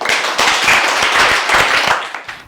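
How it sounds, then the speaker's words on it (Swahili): Children clap their hands together outdoors, a quick, uneven burst of many small palms slapping in a loose rhythm, fairly close and lively, for a couple of seconds. "Pigia makofi."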